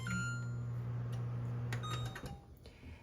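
A microwave oven in a Korean smart home hums steadily, then beeps and clicks as its buttons are pressed to select the time and start; the hum cuts out near the end, leaving faint clicks.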